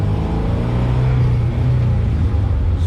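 A 1979 Alfa Romeo Alfetta 2.0 cruises along, heard from inside as a steady low engine drone and road rumble with no sharp changes, moderately loud and continuous.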